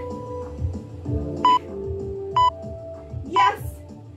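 Three short electronic workout interval buzzer beeps at regular intervals over steady background music during a kettlebell kickboxing HIIT workout, with a voice speaking faintly.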